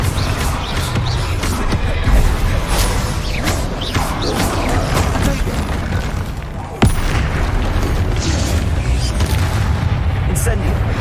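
Spell combat in Hogwarts Legacy, with a Confringo fire spell exploding amid dense, loud booms and crackling impacts, and one sharp crack standing out partway through the steady battle din.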